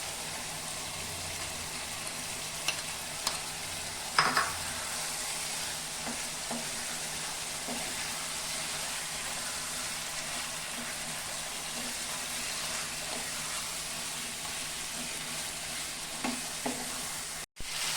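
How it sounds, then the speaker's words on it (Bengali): Mutton and potato masala is stirred in a pan with roasted spices, giving a quiet, steady sizzle of frying with scraping stirs and a few sharper clinks, heard alone. "আমি এখন ভাজা মশলা দিয়ে দিব"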